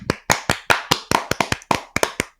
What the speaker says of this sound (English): I think we deserve a round of applause.